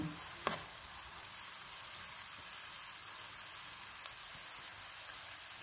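Steady, close sizzling of chopped green chillies, ginger and garlic frying in hot oil, a dense crackling hiss that holds throughout with a small clatter near the start.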